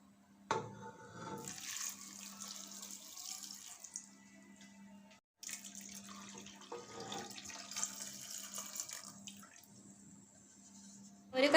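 Water runs from a tap while a pan of roasted-coconut chickpea curry is topped up, in two long splashing pours with a short pause between them, close and fairly loud and with no talking.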